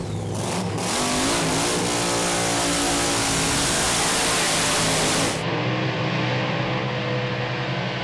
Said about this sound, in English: Final of Top Alcohol coming our way right now with Aaron Deary and Craig Glaspie.